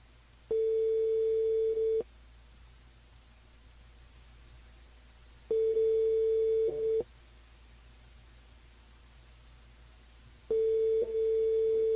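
A telephone ringback tone sounds while calling a radio show's phone line, three steady beeps of about one and a half seconds each, separated by long silent gaps, clear and alone.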